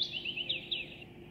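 A small bird chirps in a quick series of high, thin tweets, clear and close over a quiet background.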